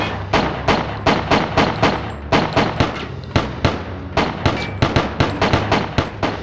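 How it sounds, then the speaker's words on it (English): A bodyguard lays down cover fire in a Colombian gunfight, loud, rapid rounds cracking in a steady, repeated rhythm for several seconds, close and dominating, with no voices over it. "The bodyguard laid down cover fire so Escobar had a fighting chance of escaping."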